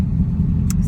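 A car drives on the road on the way home after sitting in traffic, giving a steady low engine and road rumble from inside the cabin, with a brief faint high chirp near the end.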